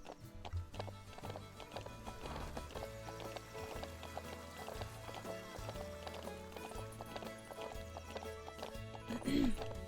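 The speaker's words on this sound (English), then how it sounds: "Ooh, that's a gorgeous horse." Horse hooves clip-clop at a steady walking rhythm in a video game, joined by a brief whinny near the end, over a continuous layer of game music and ambience.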